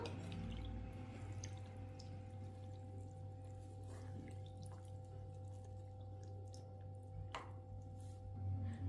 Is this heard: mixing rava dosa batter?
yes